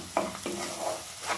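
Onions browning in a pan with a pinch of Kashmiri red chili powder, stirred in a few short scraping strokes over a steady sizzle of frying for chicken kosha.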